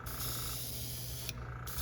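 Airbrush spraying hot pink paint onto a topwater popper fishing lure at turned-down pressure: a steady, close hiss lasting throughout, with a brief break near the end before it resumes.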